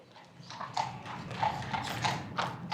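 A horse's shod hooves clip-clop at a steady walking pace on hard ground, moderately close, with faint ambient noise behind.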